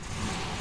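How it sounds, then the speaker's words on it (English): A 1966 VW Type 3 Fastback engine starting up on an old starter, catching at once into a steady, close, rough running rumble. "Car fires right up."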